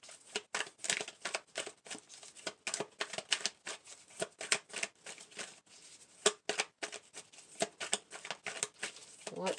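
Tarot cards being shuffled close up, a steady run of quick papery riffles and flicks that carries on for several seconds with no talking over it.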